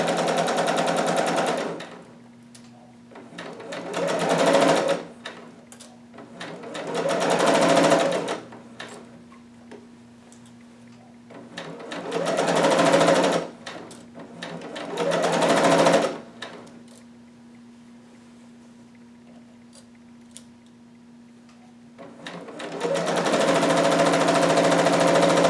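Sewing machine back stitching fabric in repeated bursts of steady whirring, several runs separated by pauses with a faint hum in between, close and clear with no talk.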